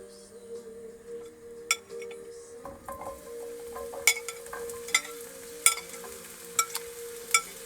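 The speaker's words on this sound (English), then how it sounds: "Stick the old shrooms on." Mushrooms cooking on a gas stove inside a Bailey Discovery caravan, with faint sizzling, a steady hum, and sharp clinks and scrapes of a spatula against the pan at irregular intervals.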